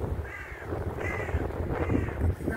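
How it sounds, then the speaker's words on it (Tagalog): Crows caw from trees in winter, three harsh calls spaced about a second apart over a faint outdoor background, with no talking. "Naririnig natin yung mga ano lang ng ibon."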